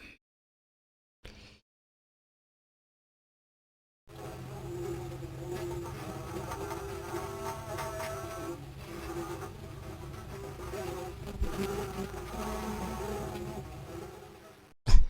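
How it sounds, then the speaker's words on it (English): A swarm of bees buzzing in an old Compton's Interactive Encyclopedia sound clip, a steady droning hum rising after a few seconds of near silence and continuing at moderate, fairly faint level, with a brief stronger swell near the end. "A swarm of bees can produce a loud buzzing sound with their beating wings"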